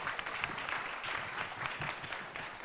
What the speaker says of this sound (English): a big round of applause for Jeff for hosting us here